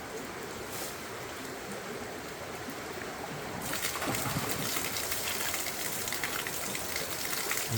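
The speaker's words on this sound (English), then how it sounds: "that's the water there is coming down from the hill" Water flowing down from a hill through a water line at a waterfall, a steady rushing hiss that swells louder partway through and continues without talk.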